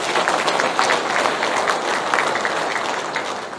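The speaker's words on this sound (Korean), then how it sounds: "다시 한번 이럴 때 큰 박수 한번 부탁드리겠습니다." Steady applause from an audience at a Korean Democratic Party event, many hands clapping densely and evenly for the whole stretch, loud and close with a faint crowd murmur beneath.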